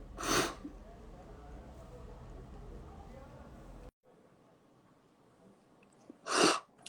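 A person sneezes sharply twice, once at the start and again near the end, with a quiet indoor stretch of low background noise between the two bursts.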